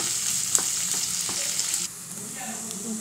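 Sliced onions dropped into hot oil for a yam curry hiss loudly at first, with a couple of spatula taps. The sizzle then eases to a softer, steady frying sound, close and without any speech.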